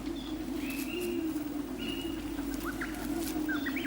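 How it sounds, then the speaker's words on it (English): Birds gather to feed on brightly coloured fruit, with a low steady cooing like pigeons or doves and a few thin, faint chirps and calls above a soft background hum. "Their brightly hued fruit attracts birds."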